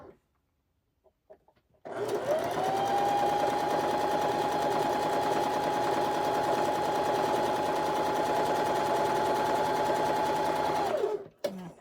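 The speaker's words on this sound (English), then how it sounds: "so we're gonna sew these 3 pieces together" Sewing machine stitching quilt fabric pieces together, starting after a short quiet pause, then running in one long, fast, steady burst before stopping abruptly.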